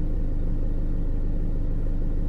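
A steady low rumble from a small car engine idling or cruising, a continuous droning hum heard close and loud throughout, no voices.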